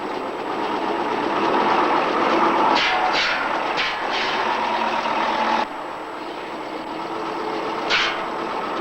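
A safari vehicle drives on across desert sand, its engine droning steadily and loudly with rumbling, rattling texture, occasional shifts in tone and a brief dip partway through.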